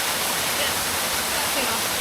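A remote waterfall pours in a steady, dense roar, close and loud, a continuous wash of rushing water with no breaks over the whole stretch.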